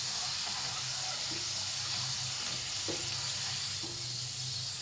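French fries deep-frying in hot oil until crisp, a dense, steady hissing sizzle throughout with a few faint knocks as they are turned and stirred.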